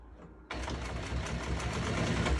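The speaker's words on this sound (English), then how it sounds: "A good quality sewing machine will do this" After a brief quiet start, a sewing machine stitching upholstery fabric for a bed kicks in and runs steadily with a rapid mechanical whir and rhythmic stitching rattle.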